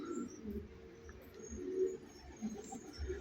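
Pigeons in a new rooftop loft coo softly and repeatedly in low, throaty pulses, fairly quiet with faint background noise and no talk.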